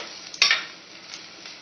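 Fish curry base sautéed in a pan over high heat, giving a steady close sizzle broken by one louder scrape or stir near the start and a few fainter clinks after it.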